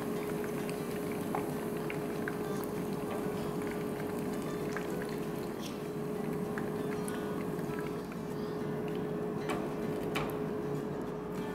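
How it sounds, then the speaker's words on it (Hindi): Minced-meat kebabs frying in hot oil give a steady, even bubbling sizzle that holds at a constant level throughout, with small irregular pops and ticks scattered over the top. "देखो कबाबों को फ्राई होते हुए ऑलमोस्ट हो गए हैं 9 मिनट के आसपास"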